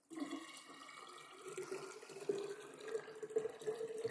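Water pours and splashes into a container while kvass is being made the medieval way, a steady trickling stream with irregular splashy bursts, close and moderately loud, with no talk over it.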